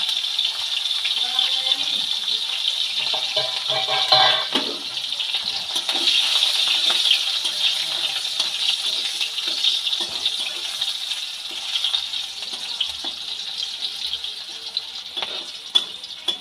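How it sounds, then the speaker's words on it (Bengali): Green chillies, a dried red chilli and whole garlic cloves fry in leftover fish oil, giving a steady, bright sizzling hiss that runs throughout with a few louder crackling bursts. "লঙ্কা আর রসুনগুলো ভাজা হয়ে গেছে।"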